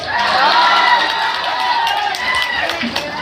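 A crowd cheering and shouting at a live stage show, loud and steady throughout, with clapping and whoops mixed into the din.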